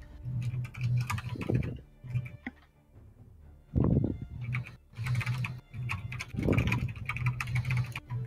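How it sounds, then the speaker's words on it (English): Rapid, irregular typing on a computer keyboard, close and clear, coming in bursts of clicks with short pauses between runs of keystrokes. "I suppose I'm up next, but I'm typing a reply here."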